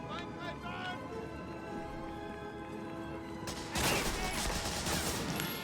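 Gunfire in the World War II shooter game Medal of Honor Frontline: tonal game sounds and muffled battle noise build to a loud, dense burst of shots near the end, with voices in the mix.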